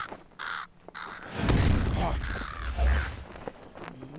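A crow-like bird enemy in Lord of the Rings Online caws a few times, harsh calls near and moderately loud over low game rumbles and creaking.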